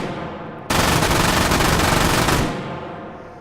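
Sustained burst of MG42 machine gun fire in the H3VR virtual reality game, a dense roaring stream of rapid shots lasting nearly two seconds, loud and close, then trailing off into reverberant decay.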